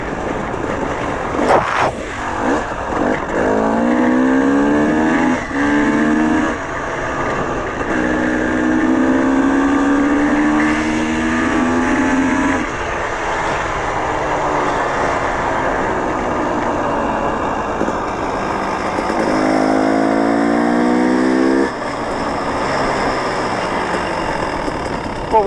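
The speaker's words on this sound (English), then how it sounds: "wheel spin down" A car engine winds down after a hard run, its dropping harmonic tones sweeping through repeated runs above a steady mechanical rumble, loud and close, with no talk over it.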